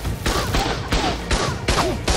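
Rapid gunfire in ARK Survival Evolved, five or six loud, sharp shots in quick irregular succession, close and dominant, with faint voices mixed underneath.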